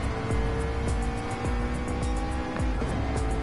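GT championship race cars on a circuit, accelerating hard out of a chicane. Loud, close, sustained engine roar with rising revs and gear shifts, several cars in close succession, no talk.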